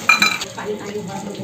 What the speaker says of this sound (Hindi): बिहनियल तुहर मामी है बर्तन धोवत है